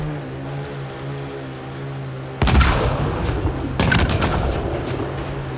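Explosions in the video game Mass Effect: Andromeda, two loud booming blasts with crackling debris, the first around the midpoint and a second shortly after, over a steady low engine-like drone.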